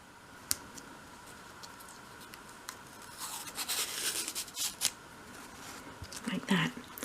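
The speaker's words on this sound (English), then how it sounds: "I just want to get a corner and then peel off the protective front." Protective film being peeled from a bright, mirror-like sheet for a dolls house, giving a close crackling, rustling tear that builds mid-clip, with a stronger burst near the end, over faint background.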